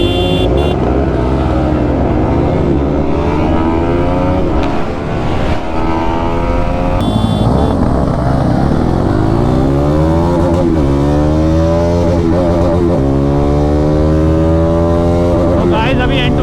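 Several motorcycle engines roar and rev together, loud and close, climbing through gears in overlapping waves off a drag race start line: Pulsar NS200, Pulsar N250, Yamaha R15 V4 and MT-15.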